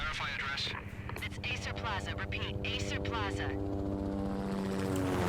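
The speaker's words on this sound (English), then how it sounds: "that is a 2001 looking helicopter, ain't it?" Helicopter rotor drone from the Max Payne game, a steady low hum with harmonic bands throughout, heard beneath a voice talking over it.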